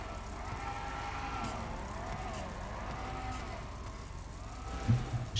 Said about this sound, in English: This is a lot of fun to drive, this car.